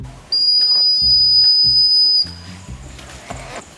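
A shrill, steady falconry whistle blast sounds for about two seconds, loud and close, followed by faint low thumps and rustling.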